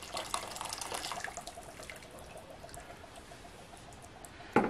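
Hot water poured into a pot for cake syrup with sugar, a steady splashing stream at moderate level, ending with a brief clatter.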